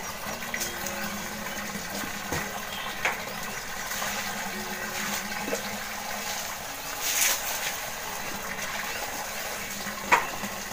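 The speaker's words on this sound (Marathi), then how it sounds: "हंड्याने पाणी घाललं बरं पडतं." Water poured from a metal pot onto garden plants, a steady soft splashing and trickling that runs continuously at close range with a few faint knocks.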